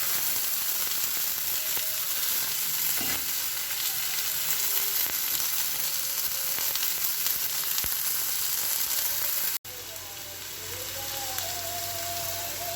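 Chopped garlic fries in hot oil in a pan for chira pulao, making a continuous close sizzle. An abrupt cut near the end leads into a quieter stretch of frying, and faint background sounds come through.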